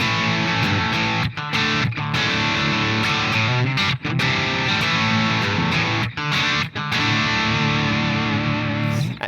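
An electric guitar on its bridge pickup plays through an iOS amp simulator with a fuzz-driven crunch tone, loud sustained distorted chords with brief gaps between strums and no talking.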